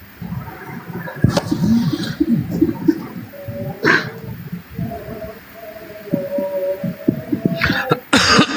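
Coughing on a live stream, several short harsh bursts scattered over a muffled background of hum and low voices.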